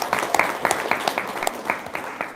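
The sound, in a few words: audience clapping hands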